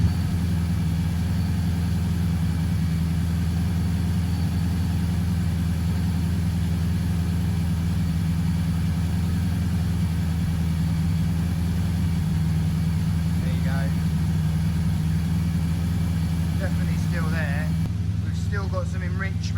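A Mazda Miata MX5 NC fitted with an LS1 V8 idles steadily while warming up, a deep low rumble that stays even and close throughout, with a faint high squeal near the end.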